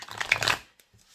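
Tarot cards riffle quickly in one brisk shuffle, close and soft, then a couple of faint taps before near silence.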